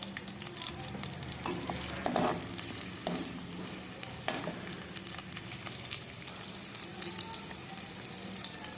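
Onions frying in hot ghee in a pan, a close, steady crackling sizzle with occasional louder pops and stirring scrapes, heard alone without talk.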